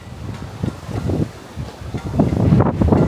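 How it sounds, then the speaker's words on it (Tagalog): Strong wind at Ba Na Hills, Da Nang, buffeting the microphone at night in uneven, rumbling gusts of moderate loudness, with no clear speech over it. "ang lakas kasi ng hangin"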